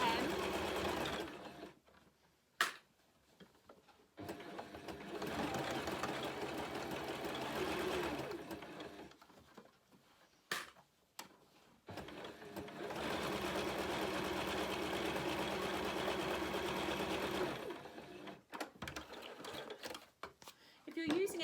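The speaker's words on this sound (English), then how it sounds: "Using a decorative stitch for this stage, it might also be quite nice to use a different colour thread to your fabric" Sewing machine running a decorative stitch through fabric for reusable Christmas crackers, long steady bursts of rapid mechanical whirring separated by short pauses and clicks, close and fairly loud.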